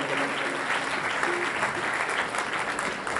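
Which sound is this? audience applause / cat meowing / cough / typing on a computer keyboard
audience applause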